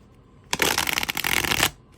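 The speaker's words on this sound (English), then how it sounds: "Beautiful shuffle." A glossy tarot deck is shuffled, one crisp riffle of rapid flutter lasting just over a second, clear and close against a quiet room.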